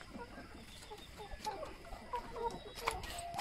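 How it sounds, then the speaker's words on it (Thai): Young laying hens of about three to four months, some fifty birds in a farm pen at night, give soft scattered clucks and low murmurs while settling to roost, a steady faint chorus with a few sharper calls. "ตรงนี้มันไก่ประมาณ3 เดือนจะเข้า4 เดือนนี่ครับ ตรงกำลังนอนกัน"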